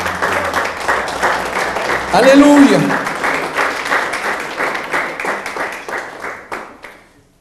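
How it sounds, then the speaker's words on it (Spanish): A church congregation claps steadily and loudly through a sermon by a pastor. The clapping swells near the middle and then fades out at the end. A voice calls out briefly partway through. "Dele palmas a Él."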